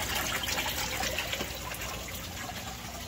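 Water flows through an aquaponics U-siphon down into the sump, a steady rushing trickle that stays even and continuous, close and alone.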